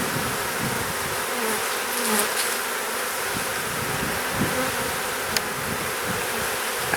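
Honeybees buzz around a hive in spring, a dense, continuous drone of many wings close to the microphone with individual bees passing near, no talking.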